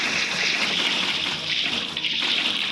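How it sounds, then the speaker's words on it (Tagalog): Water poured into a hole in a video game, a steady broadband trickling and splashing wash that runs continuously at even loudness without talk. "Lagyan na natin tubig guys."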